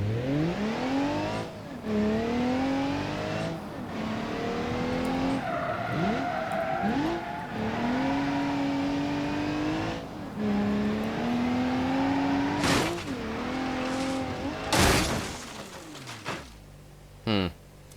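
An ETK I-Series gravel rally car in BeamNG.Drive, its engine note rising and falling steadily through gear changes, with tyre skids and a few sharp bangs near the end, loud and close.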